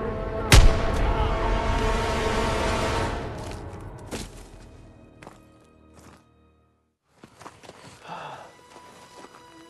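A single loud gunshot rings out early in a WWII combat scene in snow, its echo decaying over a few seconds before near silence, then faint shuffling and low movement sounds follow.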